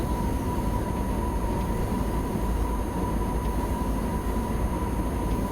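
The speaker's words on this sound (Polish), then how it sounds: "fajny przejazd, fajny pociąg, fajny skład towarowy, ekspresowy" A BR 185 electric locomotive hauling an express freight train in Train Simulator Classic, a steady rumbling drone with a constant high electric whine, unbroken throughout.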